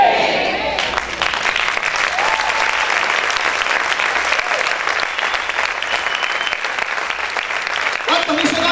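A church congregation claps loudly and steadily in sustained applause, with scattered voices in the crowd, holding a constant level throughout.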